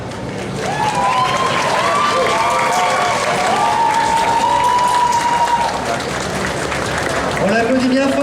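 Crowd applause at a cosplay contest prize ceremony, loud and sustained, with a voice talking over the clapping almost the whole time.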